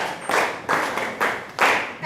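Schoolchildren in a classroom reading event clap for a pupil who answered a question, several short bursts of group clapping at close range, each swelling and fading in turn.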